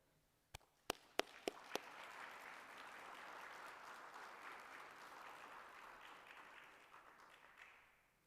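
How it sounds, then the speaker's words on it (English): A crowd applauds at a 2021 Army ROTC commissioning ceremony at Mercyhurst University. A few sharp single claps come first, then steady, sustained clapping from many hands that holds for several seconds and fades near the end. "please join me in a warm round of applause"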